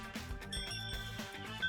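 Bright bell chime for a channel's subscribe notification bell, a quick ring with a ringing tail over a short musical backing.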